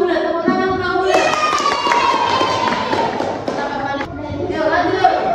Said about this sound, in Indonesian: Tepuk tangan tahu bulat.